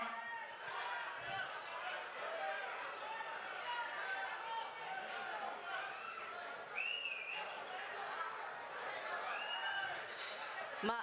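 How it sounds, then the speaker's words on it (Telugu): A crowd at a film pre-release event in a large venue shouts and cheers with joy, a steady wash of voices with occasional whistles lasting throughout. "ఇది ఆనందంలో వచ్చే అరుపులండి,"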